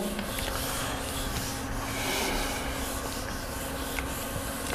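Chalk writing is rubbed off a classroom board during a trigonometry lesson, a loud, continuous close-up scrubbing with no one speaking.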